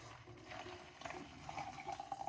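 Hot boiling water poured over dried karkade (hibiscus) to soak it, a quiet close splashing and trickling pour with a thin rising tone, alone without talk.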